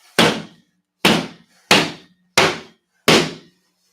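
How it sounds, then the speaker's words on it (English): Wet drywall in a flooded basement being knocked in and collapsed, five heavy dull thuds in an even rhythm, each a close, loud blow with a short crumbling tail. "What you want to do is you collapse the drywall."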